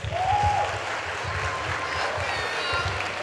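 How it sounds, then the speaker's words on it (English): Audience applause at the Miss Malaika Ghana grand finale pageant, a broad wash of clapping in a large hall, mixed with a rhythmic low thumping of background music, steady and moderately loud throughout. "I think we should give ourselves a round of applause"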